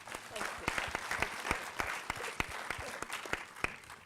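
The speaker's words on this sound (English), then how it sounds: "but I think Julie deserves some applause for that." Scattered applause from an audience at a wellbeing session on cancer, with individual claps standing out sharply and fairly close over a thinner background of clapping, quieter than a full hall.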